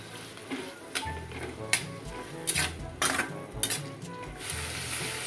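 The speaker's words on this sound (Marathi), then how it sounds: "हा गरम मसाला आहे. आणि आपण आता हे छान फ्राय करून घेणार आहोत" Garam masala frying in a pan for Schezwan noodles gives a constant sizzle broken by several sharp metallic scrapes and clinks of a spoon against the pan, with no talking.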